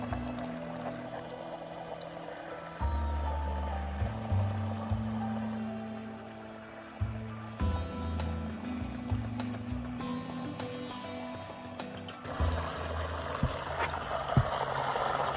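Water runs through a 3-inch sluice into a gold pan during a silver cleanup, a steady low trickle and gurgle with shifting splashes and small knocks, fairly quiet and with no talking.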